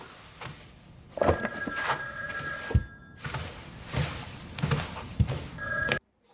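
An old bell-style telephone rings in a horror video game, repeated loud trilling bursts with thumping knocks between them, close and alone.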